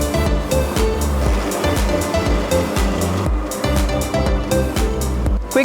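A Toro eS3000 battery-powered ride-on mower runs across a half-acre lawn with a steady, loud, continuous whirring drone that stays close throughout, with no talking.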